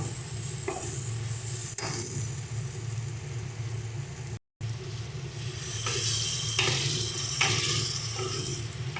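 Tomato paste and a little water hit a hot pan of frying spice mix for a prawn curry, making a loud, continuous close sizzle and bubbling with stirring scrapes throughout.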